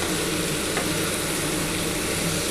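Long beans and potatoes frying in a pan for a spicy curry give off a dense, continuous sizzle at steady volume, with no talking over it.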